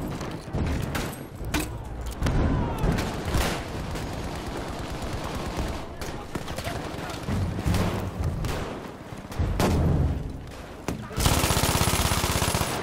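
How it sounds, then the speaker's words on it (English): MG42 machine gun fire in a video game, with dense rapid bursts and loud gunshot cracks continuing throughout and heavy battle noise at the end. "Oh, MG42 shredded me."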